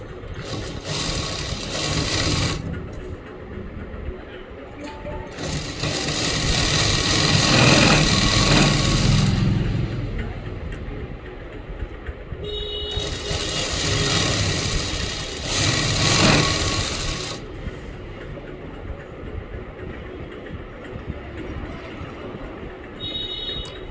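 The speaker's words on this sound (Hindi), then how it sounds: "ये देखो 12 पे निशान मार दिया और इसने सिल लेंगे।" A sewing machine stitches palazzo pants in bursts of several seconds with pauses between them. The close, rattling motor whirr swells and stops repeatedly over a constant room hum, and no one speaks.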